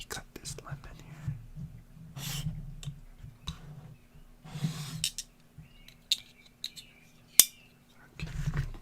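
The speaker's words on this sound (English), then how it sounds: "let me cut this lemon here" A knife slices through a lemon in a quiet ASMR kidnap-and-torture roleplay, giving soft close cutting and clicking sounds between hushed whispered speech.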